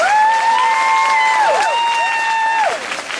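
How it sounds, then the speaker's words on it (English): Applause from a high school graduation audience, a broad wash of clapping and crowd noise with sustained whooping cheers rising and falling over it. "now we can give them all a round of applause"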